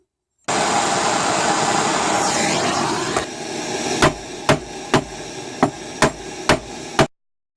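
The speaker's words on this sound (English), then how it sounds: "now I'm going to get my hammer and my torch, heat these up and pound the heck out of them" A roaring torch hisses steadily heating metal pot holder parts, then a hammer strikes the heated metal seven times at an even pace, each blow sharp and ringing.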